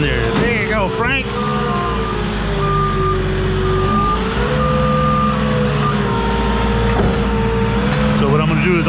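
A forklift engine revs up steadily and loud, droning through the whole stretch on a snow-covered hillside, with reversing beeps pulsing overhead and a voice talking across it.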